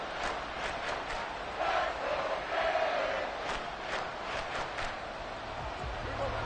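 A stadium crowd at an American football game, the Cowboys late in a half, roars steadily throughout, a broad sustained cheer swelling in places with a few sharper shouts rising from the mass.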